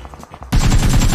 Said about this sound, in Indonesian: Shotgun nih, bos.